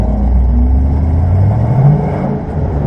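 A Ford Mustang engine held at full throttle while drifting, producing a loud, steady, close-up roar with a rising pitch and no voices over it.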